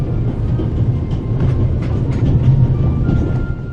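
A train rolls along its rails in The Raven Remastered, a loud, continuous rumble with faint rhythmic clatter from the wheels, steady throughout and without speech.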